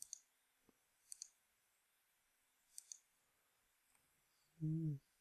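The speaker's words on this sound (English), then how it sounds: "So control click there, and maybe there, here, and here." A computer mouse clicking while selecting parts of a roof in 3D modeling software, a handful of quiet, sharp clicks, some in quick pairs, spaced across near silence before a brief low hum.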